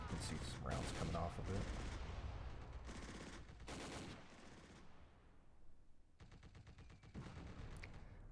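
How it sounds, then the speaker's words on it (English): Suppressing gunfire on a building in the Close Combat war game: dense bursts of rapid automatic fire and scattered shots, loud and continuous with brief lulls, with a voice talking faintly underneath. "I'm putting some suppressing fire down on this building again"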